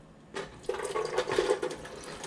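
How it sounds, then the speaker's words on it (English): Water poured into a pan of corn kernels for Mexican street corn with butter, a brief quiet splash and a fuller pouring rush that follows, close and alone. "Put a little water."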